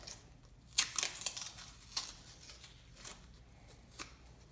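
Plastic packaging rustled and torn open to free a fuel line part, quiet crinkling with a few sharper crackles and pauses.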